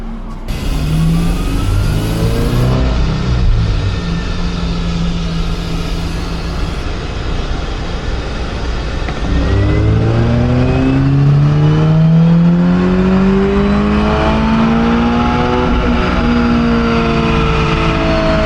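Car engine on a dyno, in a newer-generation Subaru BRZ or Toyota GR86, revs loud and close, its pitch climbing in long sweeps across repeated pulls with a brief dip between runs.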